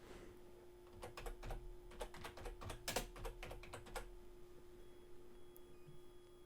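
Keys on a computer keyboard tapped in quick irregular bursts over a faint steady hum, then falling quiet near the end.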